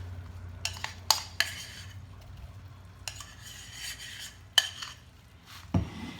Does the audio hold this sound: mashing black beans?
yes